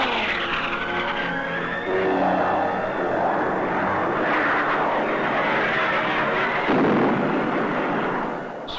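Military planes sweep low over the Dong Hoi area in a 1965 Vietnam War newsreel, a loud continuous engine roar with swelling passes and dull booming bursts throughout, no voices.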